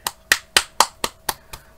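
Seven sharp hand claps in a steady, even rhythm, each one crisp and close with a quick decay and no voices between them.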